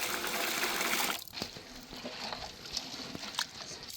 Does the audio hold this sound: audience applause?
no